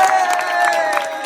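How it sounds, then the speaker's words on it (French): A small group on a trek in Morocco claps and cheers, a brief mix of hand claps, whoops and excited voices with a tonal whistle-like cry running through. "Et donc, un tonnerre d'applaudissements pour Abdoul."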